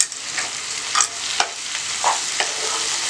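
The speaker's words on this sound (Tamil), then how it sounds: "இதெல்லாம் வதங்கட்டும்." Coconut and large tomatoes sauté in a pan with salt for chicken salna, a steady close sizzle broken by several soft scraping stirs of a spoon.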